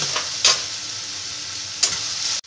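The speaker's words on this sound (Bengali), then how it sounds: "এবার আমি একটু চিনি দিয়ে দিচ্ছি। দিয়ে আবার ভালো করে এটাকে মিশিয়ে নেব।" Bottle gourd shukto sizzles in a pan as sugar is stirred in, with a steady hiss and two distinct scraping strokes of the spoon, close and loud.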